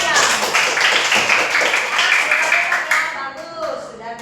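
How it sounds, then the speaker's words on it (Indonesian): A classroom of students applauds after a group presentation in a school lesson, dense steady clapping filling the room for several seconds before thinning out toward the end. "Nah, oke, tepuk tangan semuanya."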